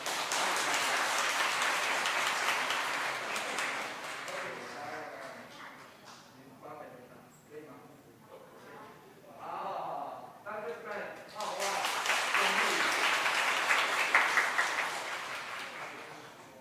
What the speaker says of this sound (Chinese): 咱拍手来欢迎